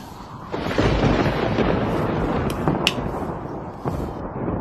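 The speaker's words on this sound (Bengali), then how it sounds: "হঠাৎ করে ঝড় বৃষ্টি চলে আসিল" Steady heavy rain from a sudden thunderstorm roars for the whole stretch, with a few sharp crackles cutting through the dense wash of noise.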